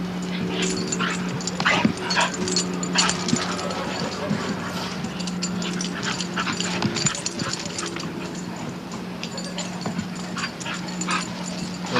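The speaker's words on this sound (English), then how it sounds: "So this is old male dog, young puppy." Young male dog playing with a very young puppy: scattered yips, whimpers and short barks over panting and scuffling, close and busy throughout, with soft indoor noise underneath.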